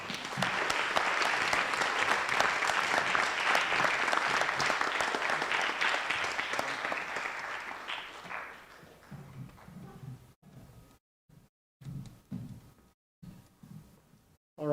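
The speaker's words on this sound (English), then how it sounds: "One more round of applause." Sustained audience applause at a school strings concert, dense and steady for about eight seconds, then tapering into scattered, fading claps with brief gaps of near silence.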